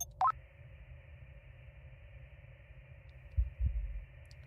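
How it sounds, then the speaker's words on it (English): In a space survival game set on a hostile moon, a planet radio picks up a low, thudding heartbeat signal with a couple of soft pulses near the end, under a steady electronic hum and a single sharp click. "Heartbeat again."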